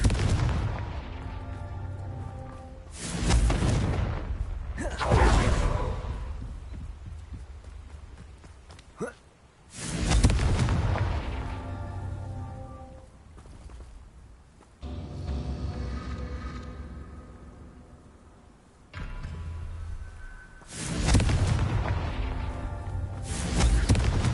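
Repeated Confringo explosion spells in a video game, several loud booming blasts spaced a few seconds apart, each with a sharp burst and a rumbling decay, with game ambience between them.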